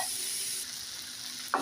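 An eggplant mash mixture fries in mustard oil, a brief steady sizzle close by that softens midway and ends with a short scrape.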